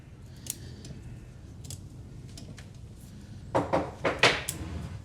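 Scissors snipping Itoigawa juniper bonsai foliage at a workshop, with sparse faint clicks at first, then a quick run of four or five crisp cuts close by over low room hum.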